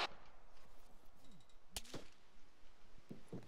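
Sharp airsoft gun shots during platoon field training outdoors, several separate cracks spaced irregularly, one standing out louder near the middle and others fainter and more distant, with no talk over them.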